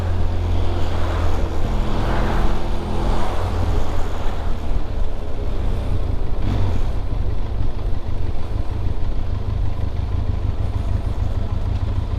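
A vehicle on a rural road passes close by with a loud, steady engine drone and tire rumble that swells and then fades over several seconds, heard from a ride near Baler and Dipaculao.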